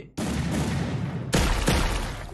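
Two loud, close shotgun blasts from the Scorpio Shatter skin in Free Fire, each a sharp boom with a long rumbling tail, the second following about a second after the first.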